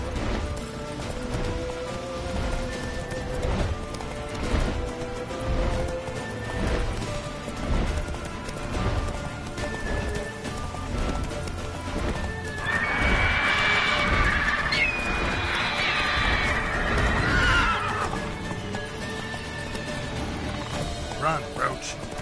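Roach, the horse in The Witcher 3: Wild Hunt, gallops with rhythmic hoofbeats and lets out a neigh, layered over game music and other in-game effects.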